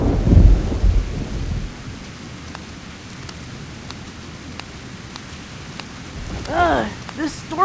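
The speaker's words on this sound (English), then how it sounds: "This storm came out of nowhere! We should get out of this rain" Thunderstorm sound effect in a Pokémon comic dub: a low thunder rumble opens, then steady soft rain continues, with a voice-like warble near the end.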